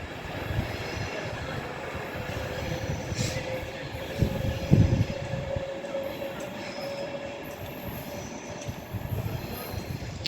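A West Coast train pulls into Rugby station, its low rumble and clattering wheels close by, with a brief squeal of braking wheels in the middle and a steady rail hum throughout.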